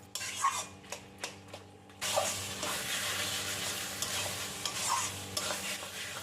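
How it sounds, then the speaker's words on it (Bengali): Taro leaves cooking with hilsa fish heads are stirred in a pan over low heat with no added water: repeated scraping strokes over a steady soft sizzle, with a brief pause before stirring resumes more continuously. "এবারে সব কিছু খুব ভালো করেই নাড়তে থাকবো।"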